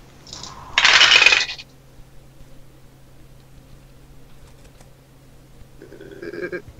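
Dice rolled during a live tabletop role-playing game, a short clattering burst near the start, then quiet with a faint hum and a softer rattle at the end.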